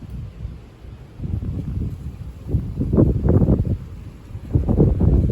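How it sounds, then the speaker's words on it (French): Strong gale wind buffets the microphone in heavy, surging gusts, building louder toward the middle and end, with no one talking. "Puis il y a encore du vent quand même."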